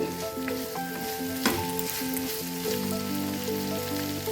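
Mutton chukka (mutton varuval) frying in oil, giving a steady, close sizzle and crackle throughout, with faint background music underneath.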